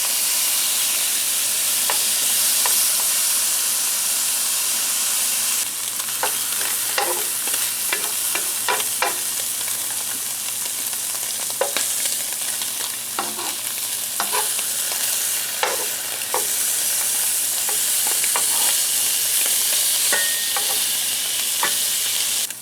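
Pulled pork and canned ham frying in a pan until crispy at a camp breakfast, a loud, constant hissing sizzle with intermittent scraping and tapping of a utensil, close up and without talk.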